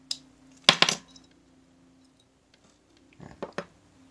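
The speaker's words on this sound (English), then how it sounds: "Moving them to hard plastic 2x2s and airtights." Coins being slid into hard plastic 2x2 holders and airtights while repacking nickels and quarters: two clusters of sharp clicks and plastic clatter, close and fairly quiet, separated by a near-silent pause.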